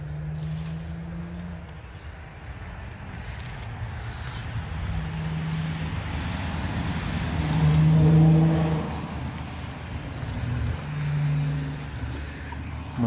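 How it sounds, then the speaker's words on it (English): Cars pass at a moderate distance, their engine noise rising and fading over steady outdoor background hum. "I'm scared of those noisy cars"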